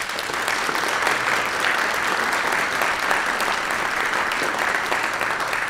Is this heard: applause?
yes